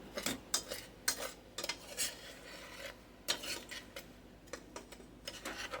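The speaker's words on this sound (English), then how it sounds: "I'm going to go ahead and mix that in here too" Spoon stirring cocoa powder into a homemade chocolate syrup mixture in a pot, quick scraping and clinking strokes repeating in an uneven rhythm, close and fairly quiet, with no talking.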